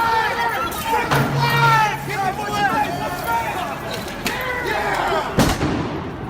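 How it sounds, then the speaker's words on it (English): Fireworks bang at a street protest, with a sharp loud burst near the end and a duller thump earlier, all under constant crowd shouting and babble. "Protest fireworks."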